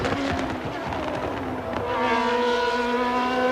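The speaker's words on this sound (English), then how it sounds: "Normally aspirated Formula One cars, for those of you who like it, it is a glorious sound." Normally aspirated Formula One cars from the 1994 Pacific Grand Prix scream past, high engine notes rising and falling as they pass, then one sustained wailing engine tone holding loud and close.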